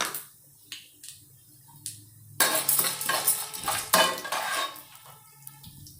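Mustard seeds and urad dal go into hot oil, starting with a few light clinks and taps of a pan, then a sudden crackling sizzle that bursts up close and gradually dies down, with no voices.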